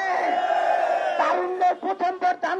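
A crowd at a BNP political rally in Bangladesh chants slogans in loud rhythmic bursts, rising from a sustained roar into repeated short shouted calls.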